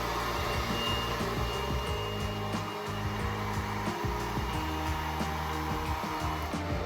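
A hair dryer blows continuously at close range during a blowout, a loud steady roar with a high whine and slight shifts as it moves, with no talk.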